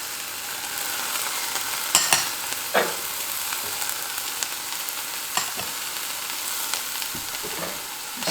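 Tomato and vegetables sauté in a hot pan, giving a steady close sizzle with scattered scrapes and clicks as they are stirred around; no one speaks.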